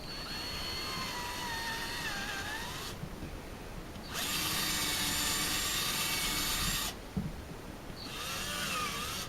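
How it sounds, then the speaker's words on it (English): A power drill whirs in long bursts, pausing twice between runs, with a rising and falling motor pitch as it bores into wood. "I'm going to take my drill here and I'm going to make a hole in the top."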